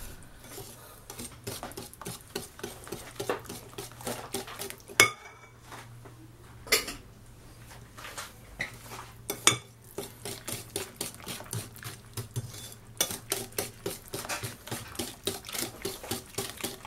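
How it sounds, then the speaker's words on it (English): Brownie batter with melted chocolate stirred in a bowl, a spoon or whisk scraping and tapping against the sides in a quick steady rhythm throughout, close and fairly loud, with a brief pause midway and no talking. "Give it a mix."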